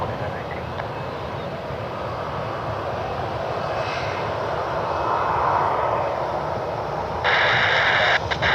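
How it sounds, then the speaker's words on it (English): A Frontier airliner on the runway at Cleveland Hopkins airport builds a broad, steady engine roar during its takeoff run, heard from a distance with faint radio chatter and a burst of hiss near the end. "Frontier's taking the runway now"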